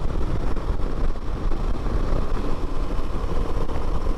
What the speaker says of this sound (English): this bike can pass when I need to